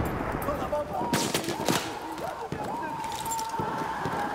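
Gunfire in the video game Battlefield 1, with enemy armor shooting: sharp, scattered shot cracks at moderate level, mixed with players talking over the action.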